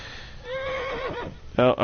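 Horse whinnying in the medieval video game Kingdom Come Deliverance, a single drawn-out neigh followed by a short sharp snort, with someone talking over it.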